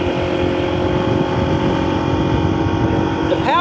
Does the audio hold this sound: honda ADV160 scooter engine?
yes